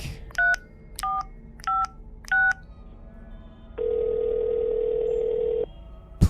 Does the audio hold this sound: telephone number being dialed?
yes